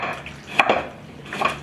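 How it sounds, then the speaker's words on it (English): Garlic pounded in a mortar for a beef liver dish, with two close, sharp knocking strikes in quick succession, then a short pause and another clattering hit. "I'm just going to put it here in the mortar and then have it pounded."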